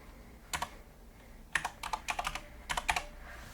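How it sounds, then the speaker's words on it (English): Keystrokes on a computer keyboard tapping out a single word, heard as short clustered bursts of clicks with brief pauses between groups, close and fairly quiet, with no voices. "we're going to type the word subscribe"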